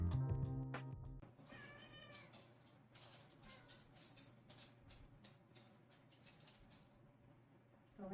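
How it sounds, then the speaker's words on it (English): A house cat meows repeatedly at close range in a quiet indoor room, a series of short, insistent calls spread over several seconds with soft rustling between them. "my cat is going to interrupt"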